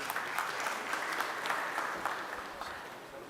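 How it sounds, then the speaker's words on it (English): Audience applause at a launch event for a metal 3D printing machine, steady dense clapping from a crowd throughout, fading slightly at the end. "With a round of applause, please."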